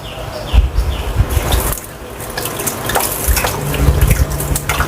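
Tap water runs steadily as beef intestines are turned inside out and rinsed in a sink, with splashing and dripping rising and falling as the tripe is handled under the stream.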